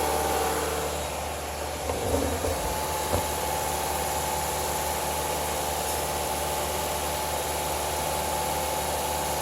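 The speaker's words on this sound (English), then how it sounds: "Cooling fans just came on, so we'll release the gas pedal and let the cooling fans shut off." A 2007 Honda CR-V engine idles with its cooling fans running: a steady, close, broadband whir and hum holds throughout, with a brief rumble of revving near the start and no talking.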